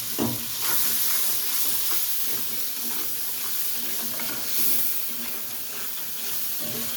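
Spice paste sizzles and hisses steadily in a hot pan after a splash of water is added, a loud, close, continuous frying sound with no talk.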